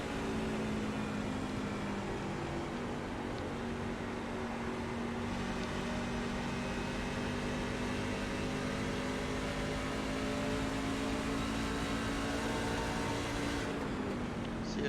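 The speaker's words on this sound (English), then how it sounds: "the motor, as you can hear, kind of went bye-bye" A race truck's engine fails after a crash in a racing game at Nashville Superspeedway, droning steadily with sustained rough tones that hold for the whole stretch and drop away near the end, with no talking.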